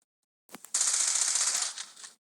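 Rapid automatic gunfire from a weapon in the zombie shooter Into the Dead 2, a burst of about a second and a half after a couple of lead-in shots, loud and close with no talk over it.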